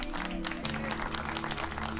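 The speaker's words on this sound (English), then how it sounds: "Good on Chris to start the applause" Applause from an episode of the TV series Life on Mars plays at a steady, subdued level in a room, a dense patter of clapping over a low tonal hum for the full two seconds.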